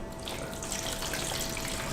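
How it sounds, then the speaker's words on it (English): A quart of water runs from a tap for a venison brine, a close, steady splashing stream that grows slightly fuller as it fills. "I take 4 cups of water, a quart."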